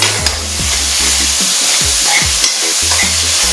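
Vegetables sauteing in a pan for fricassee chicken, a loud steady sizzle with repeated scraping stir strokes and occasional clinks close by.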